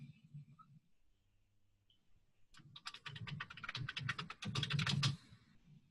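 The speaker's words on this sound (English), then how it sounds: "Oh, I hear typing" Rapid, quiet clicking of a computer keyboard bursts up for a few seconds after a stretch of low hum, then cuts off.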